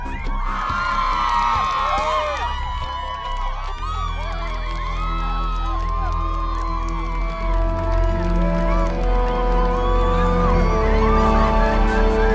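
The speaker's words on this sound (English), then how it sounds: "And the crowd is going nuts." A large crowd cheering and whooping, loud and sustained for several seconds, with shouts and scattered claps layered over a droning musical background.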